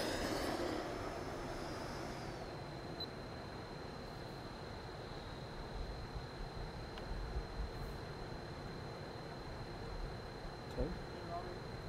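Light aircraft engine running at full power on a low landing approach, a steady broadband drone close up with a faint high whine throughout.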